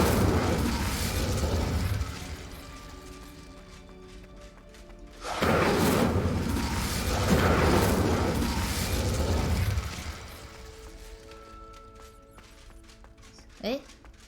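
Hogwarts Legacy's Incendio fire spell bursts out in two roaring, whooshing flame blasts over a steady game rumble, ending with a brief sharp pop.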